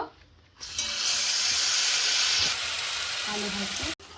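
Soybean pieces for a dal and soybean dish fry in a pan. A loud, steady sizzle swells in after a quiet start, holds strongly, then eases before cutting off abruptly.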